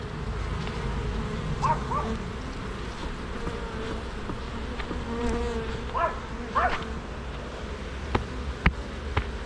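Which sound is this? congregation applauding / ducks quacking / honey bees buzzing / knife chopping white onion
honey bees buzzing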